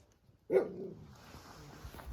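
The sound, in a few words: dog barking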